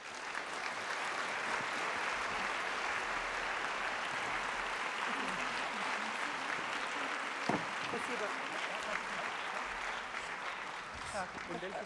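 Audience applause greets a guest speaker from Moscow at a talk, a steady, dense wash of clapping that fills the room for the full stretch with no pauses.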